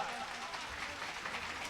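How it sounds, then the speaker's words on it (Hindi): An audience claps together at a devotional singing gathering of the Shri Basant Manas Parivar in Ghupsal: a steady, dense wash of many hands, moderately loud and continuous, with no single voice standing out. "सब लोग चाहे ताली बजाओ थोड़ा"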